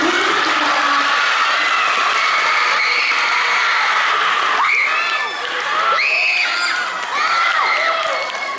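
A lecture audience gives a speaker a welcoming round of applause: dense, continuous clapping with excited cheers and shouts mixed in, loud and sustained throughout.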